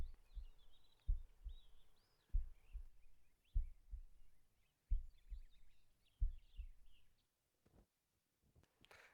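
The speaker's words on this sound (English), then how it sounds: "you heard a very faint heartbeat and it started to slow down" A faint heartbeat from the medical system in Arma 3 with the ACE 3 mod, paired low thumps repeating about six times with gaps widening as it slows, then stopping, with faint chirping sounds above.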